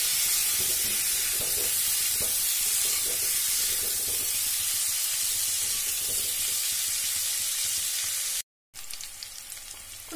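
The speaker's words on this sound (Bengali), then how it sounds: "নুন আর হলুদ দিয়ে আমি আলুগুলোকে একটু হালকা করে ভেজে নেব।" Potatoes with salt and turmeric fry in a pan, a loud, steady, close hissing sizzle with faint stirring underneath, cut by a brief dropout near the end before the frying resumes slightly quieter, with no talk.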